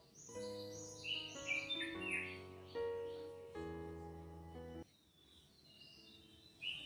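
A red-whiskered bulbul perched near a window delivers a series of bright, clear chirping phrases, several quick notes in succession close by, then a pause and a fainter call near the end.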